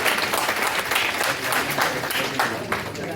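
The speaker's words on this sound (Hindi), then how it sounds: "जोरदार तालियों से अभिनंदन करें।" Sustained applause from an audience at a conference session fills the whole stretch, dense and steady with scattered sharper claps and no break.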